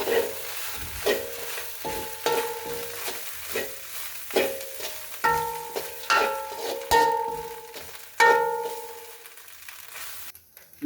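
A spatula scrapes and clatters as village-style kottu with grated carrot is stirred in a hot pan, repeating in an uneven rhythm of close strikes over a soft sizzle, with no speech.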